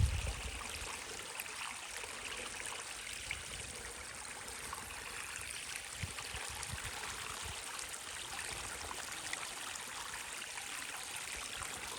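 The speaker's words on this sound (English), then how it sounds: "There's that little tiny baby waterfall." A small waterfall spills into a stream on a homestead property, a steady soft rush and trickle of water running continuously, fairly faint and even throughout with no voices.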